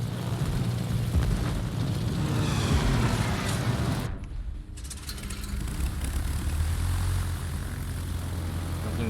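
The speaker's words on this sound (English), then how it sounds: "And Citadel Akuma with bombers while we're at it" Bomber aircraft in a naval battle video game give a steady, loud propeller and engine drone. The drone cuts out for a moment partway through, then returns.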